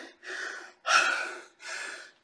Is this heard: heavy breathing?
yes